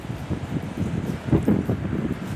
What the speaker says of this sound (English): Tante Titiani wants you to see the flying leaves as the wind blows